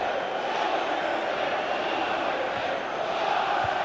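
Stadium crowd noise in the FIFA 15 football video game, a steady broad roar of jeering spectators after a missed chance in a Chelsea versus Manchester City match, sustained and even with no commentary over it.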